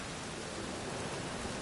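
Steady rain falls in a PS4 game, a dense even hiss of drops with a low rumble beneath, continuous and close.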